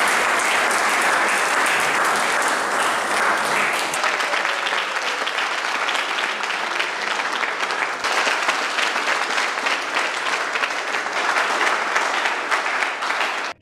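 A crowd gives loud, sustained applause with cheering at a closing ceremony in the Tchiamba Nzassi district, the clapping dense and unbroken from start to finish.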